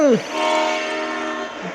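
A train horn blares loudly in the Bullet Echo video game, a sustained honk holding for nearly two seconds after a brief rising tone at the start.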